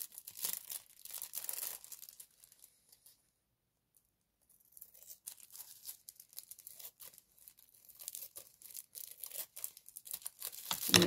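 Birthday card packaging cut open across the top, soft crinkling and snipping of paper and plastic in close, quiet bursts with a silent pause in the middle.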